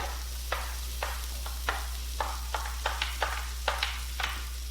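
Vegetables and mushrooms stir-fry in a hot pan for japchae pasta, a soft steady sizzle broken by about a dozen sharp, evenly spaced scraping stirs of a utensil against the pan, with a low hum underneath.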